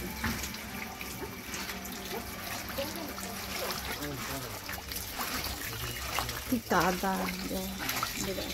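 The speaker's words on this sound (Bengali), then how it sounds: "ছাড়ানো হয়ে গেছে, এবার লবণ দিয়ে ভালো করে ধুয়ে নিতে হবে" Gugli pond snails are washed with salt under running tap water in a village kitchen, a steady faucet stream and sloshing, rattling shells in a bowl, close, with someone talking over parts of it.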